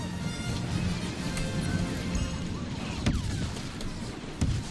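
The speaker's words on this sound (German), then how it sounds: "Wo kommen die Schüsse hier?" Battle noise from the Star Wars Battlefront beta: continuous mid-distance gunfire and blaster shots over a dense rumbling backdrop, with sharper close shots near the end.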